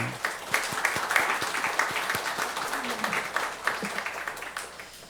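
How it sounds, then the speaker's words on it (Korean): A church congregation claps steadily together for several seconds in a large room during a Sunday service, dense applause with sharp individual claps standing out. "우리 하나님께 감사와 영광의 박수를 한번 올려드리겠습니다."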